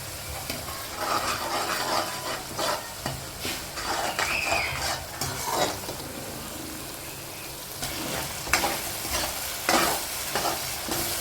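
A fish curry base sizzles loudly in a pan while being stirred, with repeated scraping spoon strokes and occasional metallic clinks against the pot, close and continuous.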